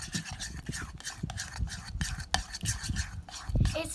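Thick slime being mixed in a bowl, giving continuous close wet squelching and slapping with quick sticky pulls and an uneven rhythm.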